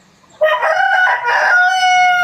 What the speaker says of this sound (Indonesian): Biar tidak ada suara ayam-ayam berkokok begitu ya.